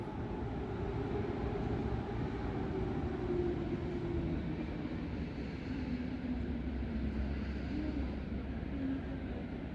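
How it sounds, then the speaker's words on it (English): An electric locomotive hauling compartment cars pulls out of Tłuszcz station in Poland, heading toward Białystok. It makes a steady, fairly quiet low rumble and rolling noise with no talk. "The train is leaving towards Białystok"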